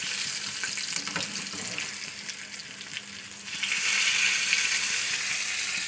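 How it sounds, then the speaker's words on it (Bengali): Fish pieces frying in a pan: a steady hissing sizzle with scattered crackles and occasional stirring clicks, swelling louder toward the end. "চলুন মাছটা ভাজা করে নিই"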